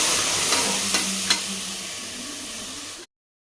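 Onions and curry leaves are tipped into hot oil for a sprouts sambar, releasing a bright continuous sizzle with a few soft clinks of stirring, close by, before it cuts to silence.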